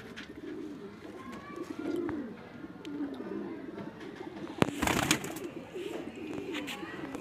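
Soft, low pigeon coos repeat over a quiet background, with a brief flutter of wings and a few faint chirps.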